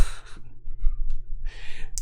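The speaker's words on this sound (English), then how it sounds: "Yawning for the masses." A person yawns with a long breathy inhale, a quiet pause, then a drawn-out breathy exhale, close and fairly loud, with no talk over it.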